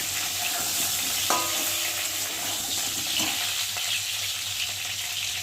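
A steady, close sizzling hiss of food frying in a pan, with one brief metallic clink early on and no talking.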